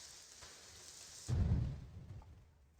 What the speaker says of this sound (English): Oh, how I do enjoy rain.